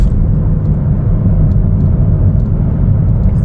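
Cabin of a 2024 Chevrolet Trailblazer AWD LT on a test drive, a loud steady low road and engine rumble that runs continuously without voices.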